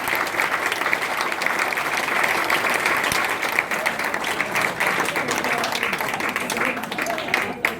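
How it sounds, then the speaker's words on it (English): Sustained audience applause at a comedy hypnosis show, dense and even clapping from a crowd filling the room for several seconds, with a voice speaking over it. "this round of applause is all for you"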